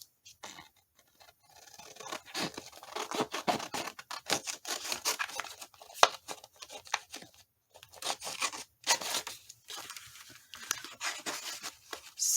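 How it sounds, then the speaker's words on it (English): Scissors snip and rasp through paper or fabric while a piece for Christmas waterfall pockets is cut out, a close, steady run of short cutting strokes with brief pauses, no talking. "I'm going to go ahead and cut that out as well."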